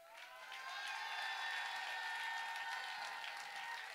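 Sustained audience applause with some cheering from a crowd at a live concert vernissage in a Neuchâtel club, dense clapping swelling quickly and holding steady throughout.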